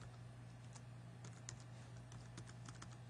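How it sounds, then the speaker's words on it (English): Quiet, close clatter of fingers typing a search on a computer keyboard, irregular clusters of key taps over a faint steady hum, no voices. "Type this in there"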